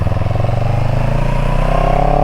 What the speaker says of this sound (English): Hear the engine just thumping along. You can tell it's a twin.